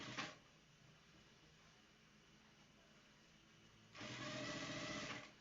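A sewing machine runs a locked stitch on a shirt, a short burst at the start and a steadier run near the end, with a quiet pause between.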